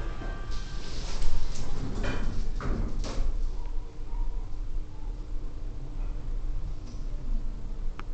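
Elevator sliding doors closing at the Ario Sendai Izumi shopping mall, with a few soft knocks and a rolling slide over steady, fairly loud machinery hum and room noise; no one speaks.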